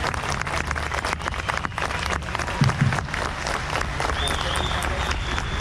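Audience applause at a Maharashtrian folk art festival, a dense continuous clapping from a crowd lasting the whole stretch at steady loudness, with voices mixed in.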